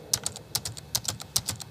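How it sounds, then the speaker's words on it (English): Keys clattering on a computer typewriter pad while notes are entered into Sibelius notation software, coming in quick bursts of three or four taps with short gaps between them, close and clear. "I can either input the notes onto the virtual score on the screen by this typewriter pad here"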